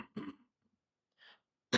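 A person with acid reflux coughs close by in a few short, harsh bursts separated by silence.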